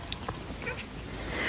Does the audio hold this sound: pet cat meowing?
yes